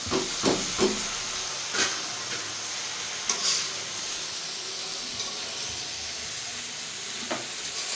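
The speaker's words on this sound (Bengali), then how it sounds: "আর এই যে সয়া সস, এখন সেই নুডলসে ঢেলে দিব" Soy sauce hits noodles frying in a pan with egg, giving a steady close hiss of steam throughout, broken by a few faint clicks and taps.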